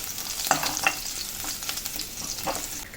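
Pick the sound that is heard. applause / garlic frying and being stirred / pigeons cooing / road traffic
garlic frying and being stirred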